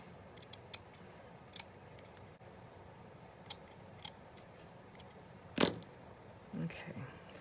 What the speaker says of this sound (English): I bought them because I wanted a pair of scissors that were dedicated to fabric.